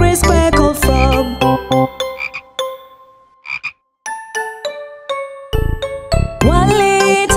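Bright, bouncy children's song with cartoonish frog croaks and jingling chimes, the croaks popping out in quick repeated bursts between plucked and bell-like notes, loud and close.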